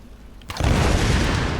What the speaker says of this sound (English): See, make explosions over there.